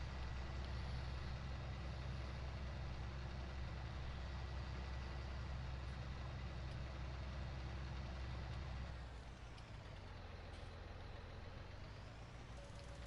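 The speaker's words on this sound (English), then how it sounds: "this tractor I'm driving has really good brakes" A tractor in the video game Farming Simulator 19 (hardcore mode with seasons mod) drives with a steady, loud engine drone that drops to a lower, quieter hum about two-thirds through as it slows.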